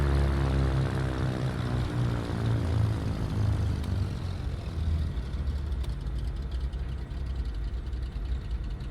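Twin engines of a Cessna 310R idling in Microsoft Flight Simulator 2020, a steady loud propeller drone with a deep, even throb that holds unbroken throughout.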